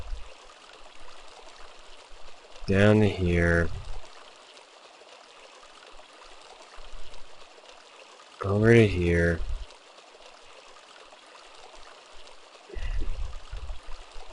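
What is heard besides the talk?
water flowing through pipes in video game Sanitarium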